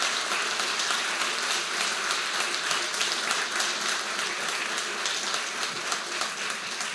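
A crowd at a city's State of the City address in Newberry claps continuously, a thick, even wash of applause sustained throughout with no voices standing out.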